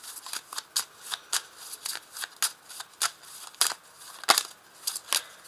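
A deck of 32 playing cards is riffled and shuffled repeatedly, giving a rhythmic run of sharp, close riffling bursts with short pauses between them and no talk.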